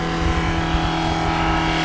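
A broken-down taxi engine in Senegal revving hard while running on its own oil after a failure, producing a loud, continuous rough roar with a steady low hum and uneven throbbing pulses.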